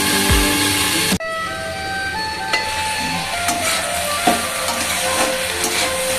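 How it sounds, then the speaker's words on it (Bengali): New potatoes fry in a pan with a steady, close sizzle that runs throughout, broken by a sharp clatter early on and a few light scrapes and knocks of stirring. "ভাজা ভাজা হয়ে এসছে"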